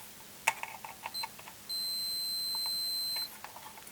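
A multimeter in continuity mode gives short clicks and chirps, then one sustained high electronic tone for about a second and a half, followed by more scattered faint beeps during electronics testing.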